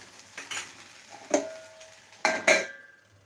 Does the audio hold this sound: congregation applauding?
no